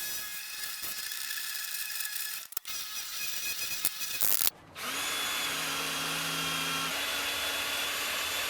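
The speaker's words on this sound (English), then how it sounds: "I'm just going to go to the drill press, drill out some holes" A steady, loud mechanical whir of a drill press running continuously while drilling holes in tool handles, preceded by clattering workshop handling noises and a brief pause.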